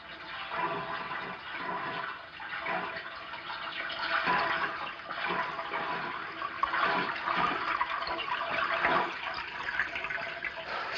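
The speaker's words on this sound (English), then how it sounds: "I told you it sounded like water running." Running water flows continuously, filling a bathtub in a 1940s comedy-mystery film soundtrack, a steady muffled rushing with gentle surges, faint and somewhat distant, with no voices.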